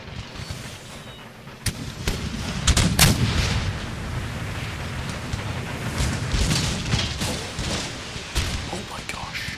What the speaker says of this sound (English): Come on, fire now, lads.